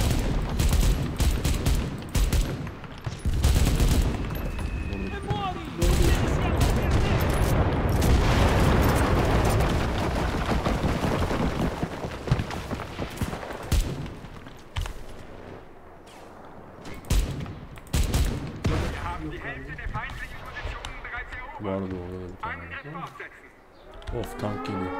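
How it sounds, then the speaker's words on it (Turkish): Cannon fire and gunfire in the video game Enlisted: heavy booms and bursts of shooting pile up densely, then thin out into scattered shots, while players talk over the battle. "Tank yok cannon oldu."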